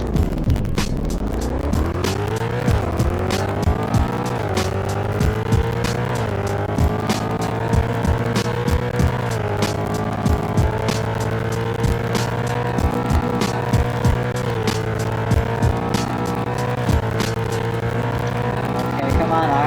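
A hyper car in the Car Dealership Tycoon video game drives at speed, its synthetic engine drone climbing through gears with repeated upshifts, then holding a steady high pitch near top speed, punctuated by sharp clicks.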